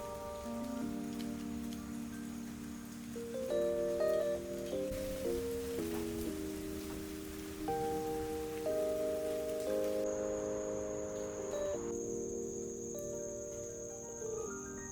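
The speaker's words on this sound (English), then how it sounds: "here's some clips of me messing around with my camera settings trying to capture the rain" Steady soft rain patters at the end of summer, a faint continuous wash with insects chirping and a few tonal notes drifting over it, no talking.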